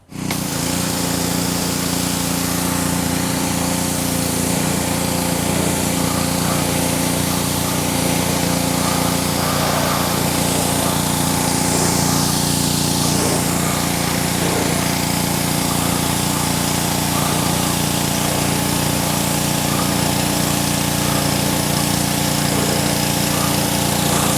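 A pressure washer blasts a steady spray of water over a chrome wheel on a Mercedes-Benz SL55, a loud continuous hiss over the droning motor of the machine, close and unbroken with no talking.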